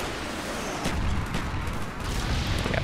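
Continuous gunfire in Call of Duty Black Ops multiplayer, a dense wash of shots and distant explosions at moderate level throughout, with no clear pauses.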